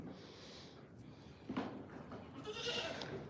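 Goats, including tiny young kids, bleat inside a barn on a small farm, a few short faint calls spaced over a few seconds against a quiet room background, with no one talking.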